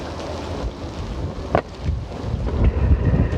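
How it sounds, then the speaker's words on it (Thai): Strong outdoor wind buffets the microphone in low, uneven rumbling gusts, with one sharper burst partway through, at a cooking spot abroad where chicken skin is being fried. "ลมมากเลยจ้ะ ลมสุดๆเลย"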